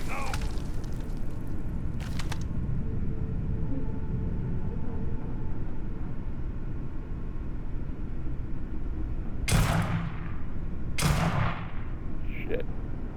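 Two loud, booming shots from an unsilenced gun in Starfield, heavy with low rumble over a steady background drone, an earlier weaker crack coming before them.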